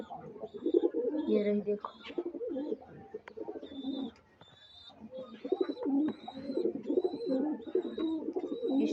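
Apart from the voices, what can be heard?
pigeons cooing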